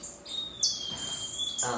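Strawberry finches in an aviary give a few high, thin chirps and short calls, close and clear over a quiet background.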